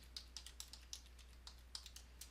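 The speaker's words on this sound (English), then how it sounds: "type in our search terms" Search terms are tapped out on a computer keyboard, a quiet, close run of light key clicks at an uneven pace with no talking.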